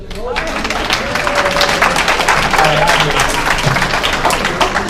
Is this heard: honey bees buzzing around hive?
no